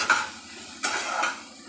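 Garlic and onion frying in butter in a pan, with a spatula stirring and scraping against the metal in a few distinct strokes over a soft steady sizzle, close by and with no talking.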